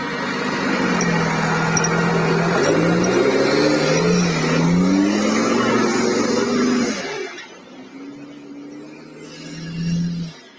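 A rally truck engine idles and revs loudly while reversing through a bogey section on a live rally course in Wales, with a steady low drone that drops away near the end before a brief rise.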